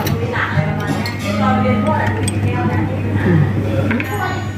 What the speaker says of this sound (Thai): อันนี้คือล้างถ้วยชา ให้ร้อน